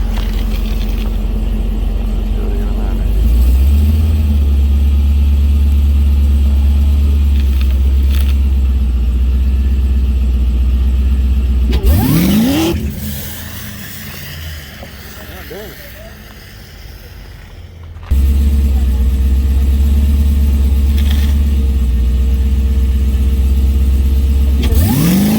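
A stock-engine Cadillac CTS-V sits at a track launch, its engine droning loudly, then swelling through a brief rising rev before quieting for several seconds and returning to a heavy steady rumble.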